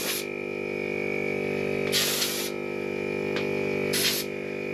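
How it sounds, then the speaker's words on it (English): Air hisses out of the onboard air system on a Ford Bronco as it loses pressure, three short bursts over a steady compressor hum, one fainter puff in between. "So you can hear it start to lose air pressure a little bit"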